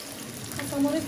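Green chilies stirred into radish frying in a pan give a steady, close sizzle with the soft scrape of stirring.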